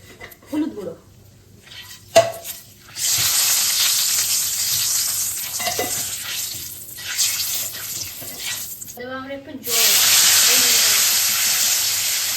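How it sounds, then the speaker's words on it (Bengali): Water is poured into a hot pan of green mango chutney tempered with dried red chilli and panch phoron, setting off a loud, sustained sizzle and hiss that swells twice, with a few clatters and a voice talking in between. "জল দিলাম"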